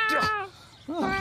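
Two high, tonal meows in quick succession, close and clear, with a brief pause between them, sounding like a voice imitating a kitten.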